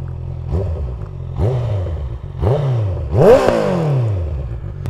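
A Honda CBR650R motorcycle on a short ride gives four sharp rising engine revs in a row, each climbing and falling away, the last one loudest and highest, close and with no talk.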